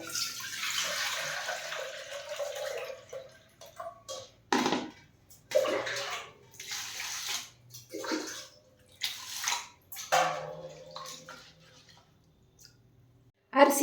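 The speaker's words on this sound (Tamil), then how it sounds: "அரிசியும் உளுந்தையும் இந்த மாதிரி நல்ல ஒரு அகலமான பாத்திரத்தில் நல்லா சுத்தமாக உங்களுக்கு கழுவிட்டு" Rice and urad dal are washed by hand in water in a wide vessel, with sloshing and swishing bursts separated by quiet gaps and someone speaking over parts of it.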